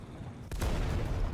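A single heavy tank cannon blast from an M41A1 Walker Bulldog in War Thunder booms out after a short lull, followed by a rumbling, lingering roar of gunfire.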